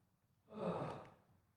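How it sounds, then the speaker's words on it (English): A long, breathy yawn at an outdoor rehabilitative strengthening exercise session on a cool autumn day, rising and swelling for about a second before fading, close and alone with no talk. "Oh, it's quite the yawn."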